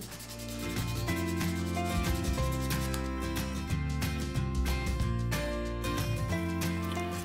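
Continuous rhythmic rubbing of 400-grit sandpaper across the plastic of a diecast Hot Wheels Ferrari Testarossa model being restored, steady and close, with strokes running together.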